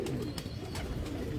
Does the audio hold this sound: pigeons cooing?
yes